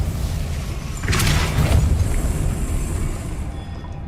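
A Depulso spell from the Hogwarts Legacy game fires as a dense, booming whoosh that swells after a second over a steady roar of background noise, then fades into a lingering rumble.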